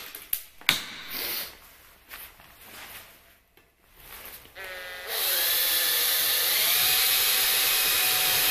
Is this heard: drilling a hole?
yes